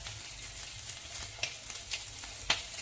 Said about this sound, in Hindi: तेज आंच पर इसको एक मिनट पकाएंगे।